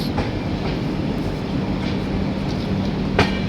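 The Shalimar–Puri superfast express rolls into Puri station, with a steady rumble of ICF coaches and faint clickety-clack of wheels over joints, plus a brief metallic clank near the end.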